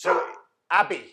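A pet dog barks twice indoors in two short, separate bursts, fairly close, with a person's voice heard alongside.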